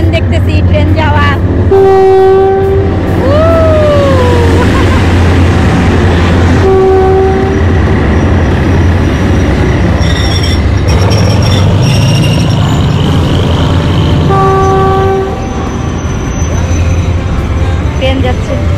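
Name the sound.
train passing over the Kanchanaburi death railway bridge, horn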